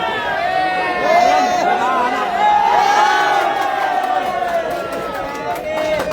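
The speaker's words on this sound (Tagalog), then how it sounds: "Nagsisigawan yung crowd po natin ulit." A basketball game crowd shouts and cheers in a loud, sustained roar of many voices, with swelling whoops rising and falling across the stretch.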